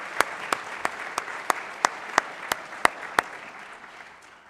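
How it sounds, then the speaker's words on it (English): Polite audience applause greets a guest speaker at a school gathering. It sounds as a slow, even run of about ten sharp, evenly spaced claps, like a single pair of hands heard fairly close, before it fades out. "give him a little polite applause of greeting"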